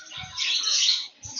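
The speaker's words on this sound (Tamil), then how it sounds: "அங்க பாரு குருவி பாரு" A small sparrow chirps in a park, giving a brief bright burst of high twittering, with faint low handling noise at the start and end.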